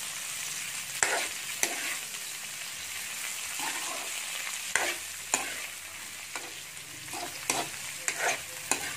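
Onions caramelizing in a pan, a continuous soft sizzle broken by repeated sharp scrapes and clacks of a spatula stirring, close and moderately loud.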